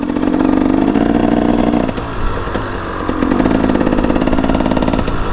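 A dirt bike rides a motocross track at a dirt park, its engine buzzing loud and close, easing off briefly midway before revving back up with rattling clatter.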